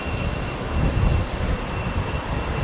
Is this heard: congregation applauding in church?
no